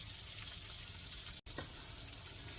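Mud crab in XO sauce cooks over high heat, a dense, steady hiss of sizzling liquid with a momentary cut in the middle, heard close and without speech.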